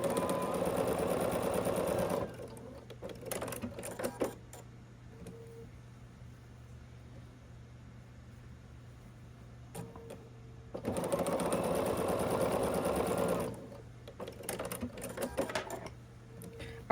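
Sewing machine stitching diagonal seams on small quilted heart pieces, running in two steady bursts of a few seconds each, separated by quieter handling noise and pauses.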